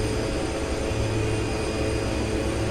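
Airplane engine in the X-Plane 11 flight simulator during approach, a loud steady broadband jet roar with a constant drone and no change in intensity, heard without talk.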